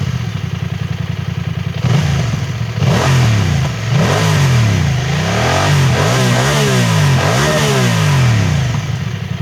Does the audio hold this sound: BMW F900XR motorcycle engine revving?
yes